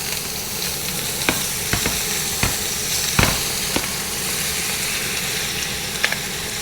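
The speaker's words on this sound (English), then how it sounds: "Let's get some butter in here." Pork chops sear in melted butter in a hot pan, a steady loud sizzle with a few sharp spatters and clicks scattered throughout; no one speaks.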